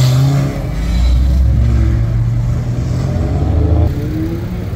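A McLaren 720 supercar passes at a motorsport festival at Fuji, its mid-pitched engine rising and swelling loud for several seconds before easing off, with a steady, dense exhaust tone and no talk.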